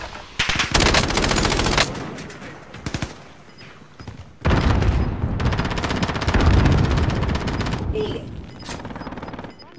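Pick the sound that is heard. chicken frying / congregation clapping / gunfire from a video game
gunfire from a video game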